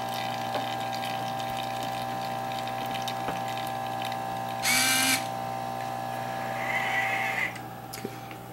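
A servo-activated pump in a homemade dessert machine pushes chocolate through tubing with a steady mechanical hum. Brief, brighter whirring bursts break in partway through.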